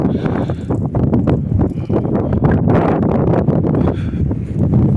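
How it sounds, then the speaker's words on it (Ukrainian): Steady, loud rumbling buffets from wind hitting the microphone, with gusty surges and crackling bursts throughout. "Зразу вибачайте за вітер"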